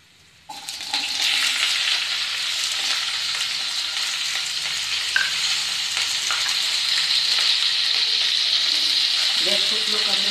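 Red chillies and ginger pieces fry in a pan with asafoetida for red chilli sauce, giving a loud, steady, close-up sizzle that starts abruptly after half a second and holds continuously to the end.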